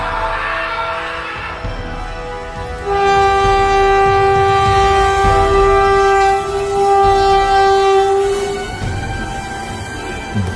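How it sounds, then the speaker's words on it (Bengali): A train bears down along the track with a long, loud horn blast held for several seconds over the heavy rumble of passing wagons, then fading into the clatter. "সামনে থেকে ট্রেন আসছে।"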